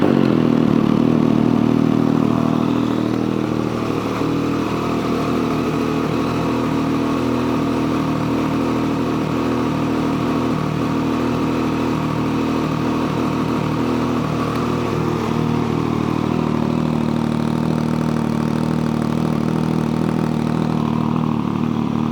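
A 2007 Triumph Daytona 675 sport motorcycle idles steadily close up, its engine giving an even low hum with slight clatter that barely changes across more than twenty seconds, with no talk over it.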